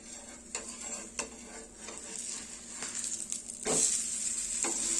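A freshly flipped rice flour uttapam sizzles on a hot pan. The steady hiss is broken by spatula clinks and taps, and the sizzle swells louder near the end. No one talks.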